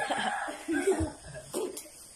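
A person coughs a few times in short, rough bursts, close by, with a brief chuckle-like sound mixed in.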